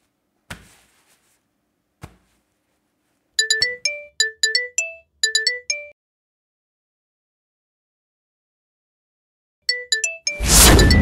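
A mobile phone rings with an incoming call, its bright melodic ringtone repeating in short chiming bursts after a couple of soft clicks, loud and close, alone.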